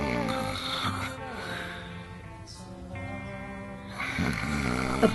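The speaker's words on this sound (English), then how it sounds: "Dad, stop snoring!" A man snores loudly in his sleep in a bedroom, with drawn-out rasping breaths recurring steadily and close by, while a voice speaks over parts of it.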